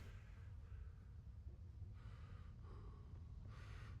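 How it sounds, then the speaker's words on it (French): A knight character in the medieval role-playing game Kingdom Come: Deliverance pants out of breath, with two or three short bursts of heavy, raspy breathing over a low, steady game background rumble. "Tout essoufflé mon perso."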